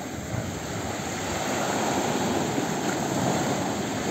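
Sea waves wash steadily onto a smoothed, water-worn shore on the Bulgarian coast, a continuous close broadband rush of surf with no talk over it.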